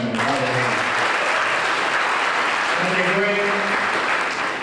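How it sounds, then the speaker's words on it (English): Steady, loud applause at a youth job program workshop, sustained clapping throughout while someone speaks briefly over it. "Let's give these two powerful women a round of applause."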